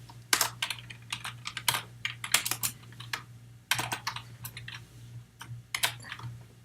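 Fingers type C++ code on a computer keyboard in quick close bursts of clacking keystrokes, broken by short pauses, with no one speaking.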